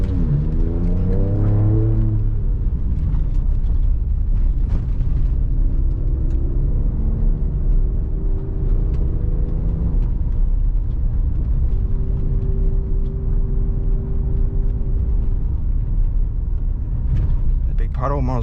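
A 2023 Ford Ranger Raptor pulls away off-road and accelerates, its engine a steady close rumble that rises in pitch through the gears, with someone talking over it the whole time.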